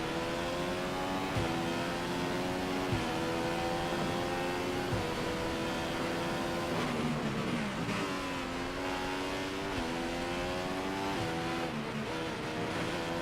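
A Formula 1 car engine in F1 2015 at the Bahrain Grand Prix screams steadily at high revs, dipping and climbing through gear changes on worn tyres, loud and continuous with no talk.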